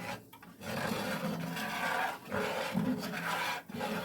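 A utensil scraping the bottom of a pan of cooking flour for gravy, loosening the browned fond; a continuous rasping scrape with brief pauses, close and fairly steady.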